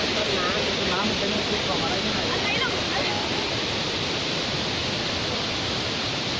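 Thi Lo Su waterfall in Umphang, Tak, Thailand, roars as a steady, loud rush of falling water that never lets up. Faint voices come through near the start.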